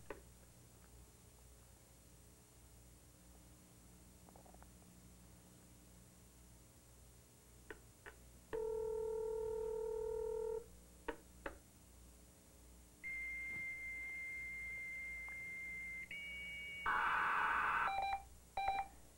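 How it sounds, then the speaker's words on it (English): A modem dials a string of steady tones, pauses, then gives longer pitched tones and a harsh burst of screeching handshake noise, over quiet background hiss. "It's now beeping its signal that the board is connected up"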